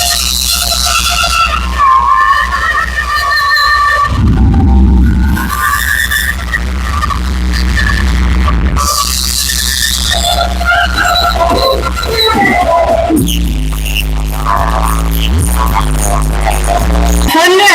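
A powerful DJ sound system mounted on a kanwar vehicle from Gujjar Jawali, Haridwar, pumps out loud, distorted music with heavy booming bass and shrill high tones, blasting continuously at full volume throughout.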